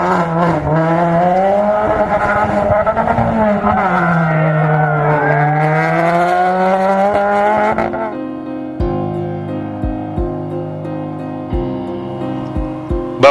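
A 1600cc Peugeot 207 rally car, the engine wailing loud and close through rising and falling revs, then a lower idle-like burble with sharp gear-change pops and bangs.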